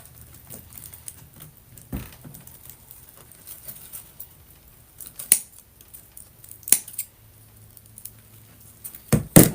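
Scissors trim grapevine for an owl centerpiece, giving a few sharp, isolated snips spaced seconds apart, close and clear over faint rustling.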